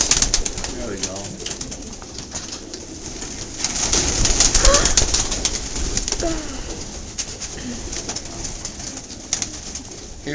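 Pigeons call and coo outdoors at moderate distance, soft repeated low notes mixed with other bird chirps over steady background noise, swelling louder in the middle.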